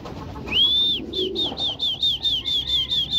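Racing pigeons in training give one long rising coo followed by a rapid series of short, evenly spaced coos, close and clear over low background rustling.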